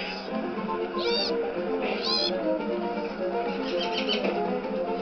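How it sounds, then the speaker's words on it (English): Loud cartoonish bird calls from the video game Rayman Origins chirp in a few quick, rising bursts over busy game music and effects. "I hear you, birds."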